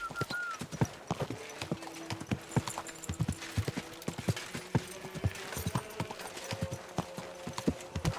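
Steady clip-clop of horse hooves trotting close by in Kingdom Come: Deliverance 2, with a faint whinny and some background voices.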